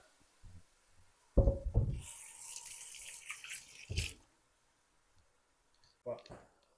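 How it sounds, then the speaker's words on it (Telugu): Water is poured from a masala bowl into a pot of mutton for biryani: a short splashing pour of a few seconds, with light clicks and clinks of utensils before and after. "కొంచెం వాటర్ పోసి దాన్ని కూడా మటన్లో వేసేసుకుందాం"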